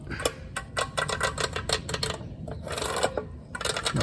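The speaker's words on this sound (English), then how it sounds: "this foot pedal. It's very clicky and graunchy" Foot pedal of an R-Tech welder clicks and grinds with a rough, graunchy action, giving a quick run of close, dry clicks and scrapes with brief pauses between them.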